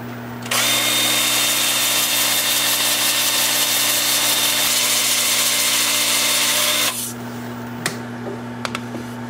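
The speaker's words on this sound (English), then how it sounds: "I'm going to start sanding in reverse at 150 grit" A steady whirring lathe spins an alder wood bowl with a continuous abrasive hiss of 150-grit sandpaper, sanding in reverse, for several seconds, then stops and winds down, leaving faint taps.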